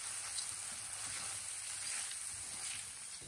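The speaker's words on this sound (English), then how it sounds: "Give that a stir. And just keep stirring that for a couple of minutes." Ingredients with nutritional yeast flakes sizzle gently in a pan over medium heat, a soft, steady frying hiss with faint stirring, fairly quiet and without talk.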